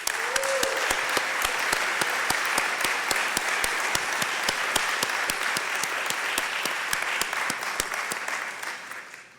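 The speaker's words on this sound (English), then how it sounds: "Please offer a warm round of applause for all those who were recognized this morning." An audience at a college awards convocation applauds in a dense, sustained burst of many clapping hands. A single spoken word comes at the start, and the applause fades out near the end.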